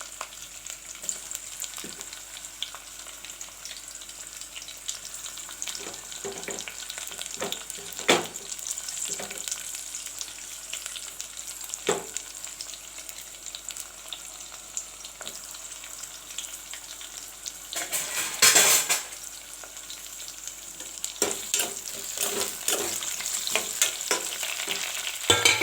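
Onions sautéing in a pan for veg pulao, a faint sizzle with scattered stirring scrapes and clinks, a louder burst of handling near the end, no talk.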